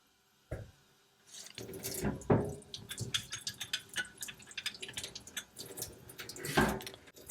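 Tap water runs into a sink while a paint roller cover coated in water-based paint is rinsed, a steady splashing flow with gurgles and brief louder bursts, heard close with no talking.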